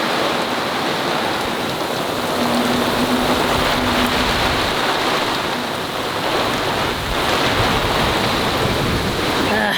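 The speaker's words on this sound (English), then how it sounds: "We got a thunderstorm rolling in" Heavy thunderstorm rain pours steadily onto a sailboat in a dense, loud, unbroken hiss that lasts the whole stretch. No voices or thunder stand out.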